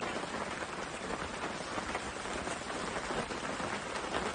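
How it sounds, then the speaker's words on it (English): Steady rain falling outdoors in the woods, an even, close hiss of drops on surfaces that keeps up without pause. "I'd rather be out in the rain, in a top, than in a house in the rain."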